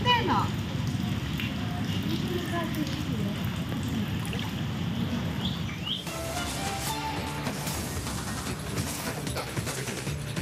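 Steady, dense hiss of heavy monsoon rain pouring down in coastal Karnataka, continuous throughout with a rumbling low wash, growing slightly brighter and more clattery partway through.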